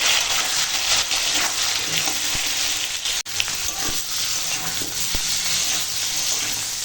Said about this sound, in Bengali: এখন মশলার সঙ্গে আনাজটা একটু কষিয়ে নেব